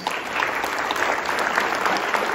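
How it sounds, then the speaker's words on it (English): School audience applauding students of the month at a district recognition event: steady, dense clapping from a crowd throughout, fairly loud. "And one more round of applause for our Pomalita students."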